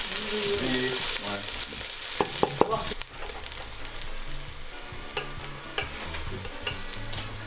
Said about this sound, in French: Donc les oignons, il faut qu'ils soient bien toastés.